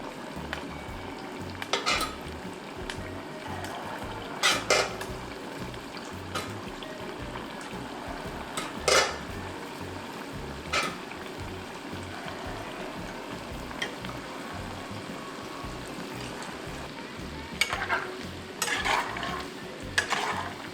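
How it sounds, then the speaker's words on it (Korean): Battered tofu pan-fries in hot oil, a steady close sizzle and crackle throughout, punctuated by occasional clacks and scrapes of a utensil against the pan, with no talking. "이제 넣어서 노릇노릇하게 튀겨볼게요."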